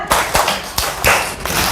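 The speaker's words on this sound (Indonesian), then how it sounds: "Tepuk lima dua kali" Children clap in unison in a counting clap game in an Islamic prayer lesson, several sharp group claps in an uneven rhythm, close and loud with no talk.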